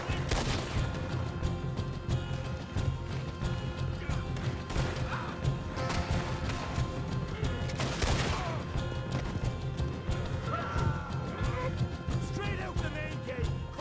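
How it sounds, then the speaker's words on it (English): Gunfire in a cowboy video game: scattered gunshots and crashes over a busy, continuous background of game noise, with voices talking in between. "Who's he shooting at?"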